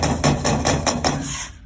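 Sandpaper rubbing over a painted wall where latex paint sits over oil paint, a series of about six rhythmic scraping strokes, close and fairly loud, with no talk.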